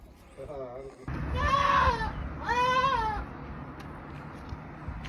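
A goat about to be slaughtered at a wedding gives three loud, wavering bleats in close succession, the middle and last calls longest, against a low background of murmuring and outdoor noise.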